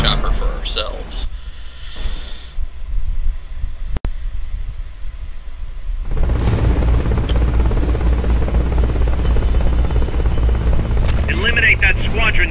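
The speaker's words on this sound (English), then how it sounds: "Attack the chopper." A helicopter in the video game Metal Gear Solid Peace Walker makes a loud, steady rotor roar that swells in after a quieter stretch and keeps droning under game action.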